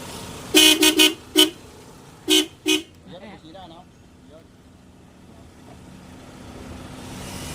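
A newly installed car horn honks in short, loud bursts, three quick beeps then two more, followed by someone speaking briefly and quiet background hum.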